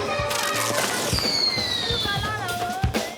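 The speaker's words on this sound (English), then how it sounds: "Kids are setting off fireworks in the Medina." Kids set off fireworks in a medina during a street celebration. Sharp crackling pops come in irregular bursts with a whistling rocket streak, all over a constant crowd noise that includes voices.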